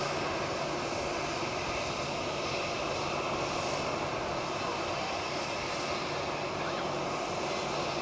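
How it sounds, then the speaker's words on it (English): A CFM56-powered Boeing 737 at Manchester Airport gives off a continuous, even engine roar, broad and steady with a low rumble and no break, moderately loud and close. "come on then, little CFM 56 power 737"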